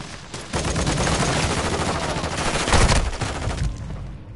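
Rapid automatic gunfire in a PS4 shooter game, a dense continuous volley of loud shots with no talking over it.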